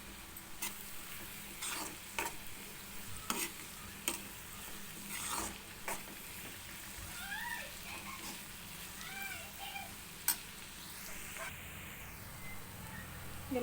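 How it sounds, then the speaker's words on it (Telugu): Onions fry in a pan for a spicy masala egg curry and are stirred until golden brown. A soft, quiet sizzle runs under intermittent scraping stirs, with faint chirping or mewing sounds in the background. "ఆనియన్ వేసుకుని ఆనియన్ గోల్డెన్ బ్రౌన్ కలర్ వచ్చే వరకు కూడా బాగా వేసి బాగా మగ్గనివ్వాలి"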